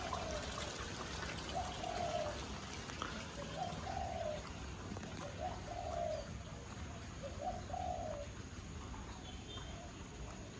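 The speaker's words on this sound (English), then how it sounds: "can hear the birds. We hear them all the time." Soft, repeated cooing of a dove or pigeon, about five calls at an even pace, heard faintly against a constant background hiss in a resort garden in Bali, Indonesia.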